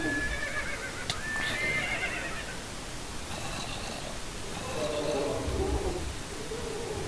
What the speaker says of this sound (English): Not a zombie riding a freaking flying horsey.